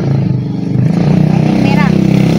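A motorcycle moves through a crowded seaside fish landing where fresh catch is coming in from the sea. Its steady engine hum sits under loud, overlapping crowd chatter.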